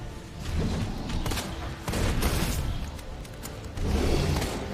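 Gunfire in the video game Resident Evil 2, a few loud bursts of shots and booms in separate clusters with short gaps between them, no voices.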